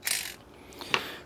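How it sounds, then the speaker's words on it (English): A ratchet wrench with a 16 mm socket clicks on bolts while a Jeep JLU front bumper is removed, two short bursts of close, light ratcheting. "We're going to use a 16 millimeter socket."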